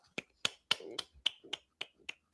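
A lone person claps slowly and unevenly, about eight sharp, close claps at a watch party for an AFC Championship football game, with a soft murmur between some claps.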